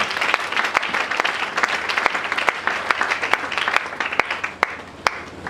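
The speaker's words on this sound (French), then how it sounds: "Est-ce qu'on peut acclamer pour le Seigneur?" Church congregation applauding and cheering for the Lord, dense sustained clapping from a crowd with sharp individual claps standing out, loud and close, with faint voices mixed in.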